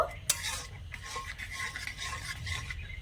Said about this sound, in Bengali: এবারে গ্যাসের আঁচটা একদম হালকা রেখে নেড়ে সেড়ে একটু মিশিয়ে নেব